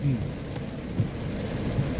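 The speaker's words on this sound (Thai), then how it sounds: "ฝนก็ตกนะครับผม" Steady rain falls in a continuous hiss, heavy and close, with low rumbling in the background and no one speaking, in Phu Sing district.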